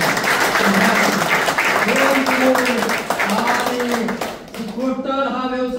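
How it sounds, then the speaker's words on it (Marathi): Loud, sustained clapping from an audience at an AWPL business seminar, continuing for several seconds, with a voice or tonal sound carried over the applause. "मुर्तुजा शेख महागुरुसाठी जोरदार टाळ्या"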